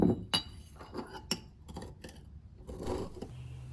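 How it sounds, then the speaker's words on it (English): A hardened steel kiridashi blade, freshly quenched before tempering, scrapes across glass in a few short, sharp gritty strokes with faint clinks, close and alone. "it scratches glass super easily"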